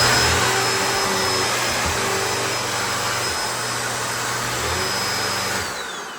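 A Shark Navigator vacuum cleaner, freshly serviced, runs steadily with a loud motor whine and airy roar, holding constant for several seconds before winding down at the end.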